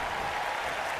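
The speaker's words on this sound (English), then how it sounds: "Listen to this crowd." Stadium crowd noise from a WWE 2K19 wrestling game at a Tokyo live event, a dense, steady roar and applause filling the whole second without breaks.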